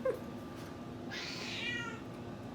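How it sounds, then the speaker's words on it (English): A house cat meows once, a clear drawn-out call at moderate distance, over a low background hum in a home kitchen. "that is my cat Gabby."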